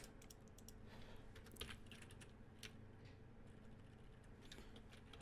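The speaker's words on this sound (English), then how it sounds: "Come on, keyboard." Steady, quiet clatter of keys typed on a computer keyboard, a run of fast irregular clicks with no talk over it.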